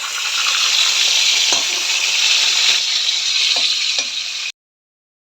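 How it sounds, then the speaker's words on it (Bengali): Fish sizzles steadily in a frying pan right after being flipped, a loud, dense hiss with faint scraping clicks, which cuts off abruptly near the end. "মাছটা হয়ে গেছে ভাজা, এবারে আমি উল্টে দিলাম।"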